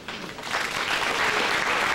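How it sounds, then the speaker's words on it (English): An indoor audience at an evening event bursts into sustained applause, a dense wash of clapping that swells louder and holds steady throughout. "let's give them a round of applause"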